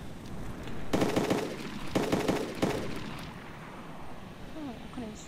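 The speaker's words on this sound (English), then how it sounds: "Just start firing some blind shots" Automatic gunfire in ARMA 2, two loud rapid bursts of shots about a second long each, followed by quieter background sounds with faint voices from players.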